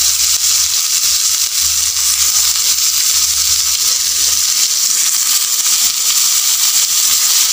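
Tomato frying in a pan of hot oil with onion and spices for egg momos, a steady steamy hiss and soft sizzle running unbroken and close.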